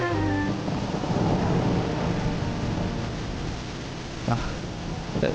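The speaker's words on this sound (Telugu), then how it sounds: "వర్షం పడుతుంది" Steady heavy rain hisses throughout, with a faint rumble of distant thunder and no voices.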